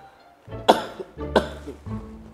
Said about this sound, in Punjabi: ਔਰ ਖਾਂਸੀ ਕਰੇ